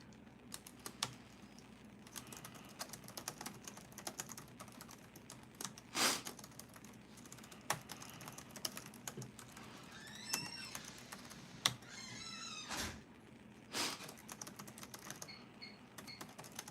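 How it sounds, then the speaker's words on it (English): Typing on a computer keyboard during a live stream, heard as quiet, irregular clusters of key clicks and taps with short pauses between bursts, close to the microphone and with no talking. "I'm just typing a few things in the chat here."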